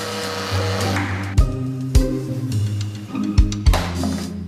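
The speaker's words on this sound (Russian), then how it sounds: "Перемешиваем ручным блендером." A hand blender whirs steadily as it mixes a reduced sauce with cold butter, its loud motor hum broken by a few sharp knocks and bumps against the pot.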